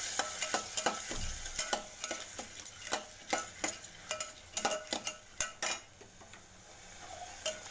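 Sprouts being mixed with salt and turmeric in a metal bowl, a close series of quick spoon scrapes and clinks in an uneven rhythm, moderately loud with no speech.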